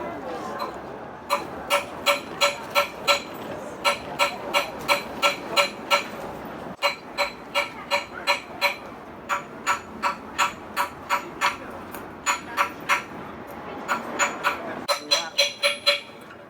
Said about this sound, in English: I'm using the flat side of the hammer here.